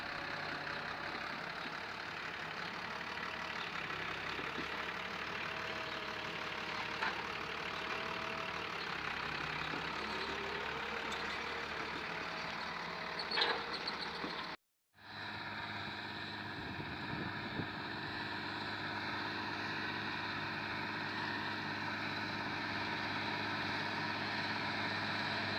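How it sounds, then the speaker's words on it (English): A 6280 farm tractor's engine idles in a steady, even drone that holds for the whole stretch, broken only by one brief dropout, with no voices over it. "This tractor here, the 6280"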